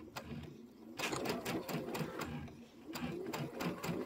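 A sewing machine runs in short bursts while piecing a Kimberbell quilt top, its needle rattling quickly and stopping and restarting close by.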